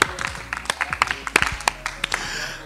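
An audience claps in uneven scattered bursts, moderately close, with a voice speaking under the applause.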